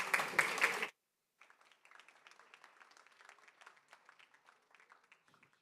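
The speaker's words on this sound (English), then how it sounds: "Let's give her a round of applause." Applause from an audience at a school board meeting: a brief burst of close, loud clapping cuts off abruptly, then lighter scattered clapping continues at a distance and gradually thins out.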